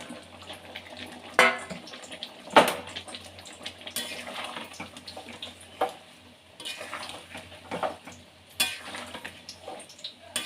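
Katla fish roe and soft potatoes cooking in a pan, with a steady low sizzle, scraping and stirring clatter, and a few sharp knocks of a spoon against the metal, no voices.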